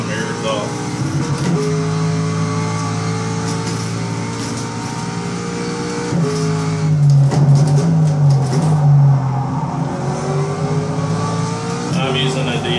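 A race car engine in a racing simulator holds a steady, loud drone, then revs up and down through gear changes with a brief high rise near the middle.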